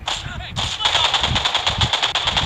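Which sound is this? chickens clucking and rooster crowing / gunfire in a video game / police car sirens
gunfire in a video game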